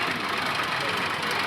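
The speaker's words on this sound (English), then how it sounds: "Lovely tractor." A steam tractor engine runs at a steam rally, a steady close mechanical chugging and hiss filling the whole stretch, with people talking faintly in the background.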